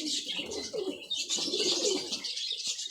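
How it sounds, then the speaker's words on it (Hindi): Pigeons coo in rolling, throaty phrases close by in an old pen, a male paired with a hen, with soft chirps and faint rustling mixed in, loud and continuous. "ये पुराने लकवे के अंदर कबूतर है"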